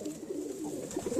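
Young pigeons coo softly in a loft, low murmuring calls rising and falling continuously at close range with no talk over them.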